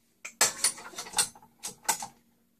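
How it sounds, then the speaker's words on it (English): A paddle attachment clicked onto a kitchen stand mixer while making pork and pasta, giving a few short, close mechanical clacks and clicks spaced over about two seconds, with no talking. "I'm going to put on the paddle."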